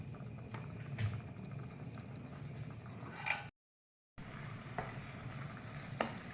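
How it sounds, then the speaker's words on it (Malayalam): Mustard seeds temper in hot oil in a pan for a Kerala lemon curry, a continuous close sizzle scattered with sharp pops and clicks, broken by a short stretch of silence. "ഇനി ഇതൊന്ന് കടുക് കാച്ചിയെടുക്കണം"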